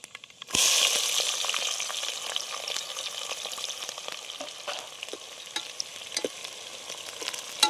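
Whole spices spit in hot oil before chopped onion goes in for a pulao biryani, bursting into a sudden loud sizzle that settles into a steady crackling fry with scattered pops and stirring scrapes, heard close with no speech.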